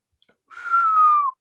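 A person whistles a single sustained note that glides slightly downward, clear and close, heard alone after a couple of tiny clicks.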